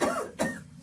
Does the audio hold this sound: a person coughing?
yes